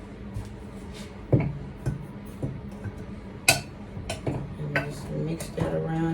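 Sugar mixed into carrot cake batter in a bowl makes close clinks and taps of a utensil against the bowl, irregular and fairly loud, over a low background hum.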